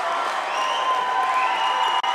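A high school basketball crowd roars and cheers loudly and continuously in a gym after a player is fouled on a made basket, a dense sustained wall of voices.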